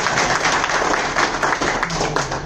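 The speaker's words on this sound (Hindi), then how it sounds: "इसके लिए ताली बजाओ" An audience bursts into applause for a lecturer, dense overlapping clapping sustained at steady loudness throughout, close and full with no talk over it.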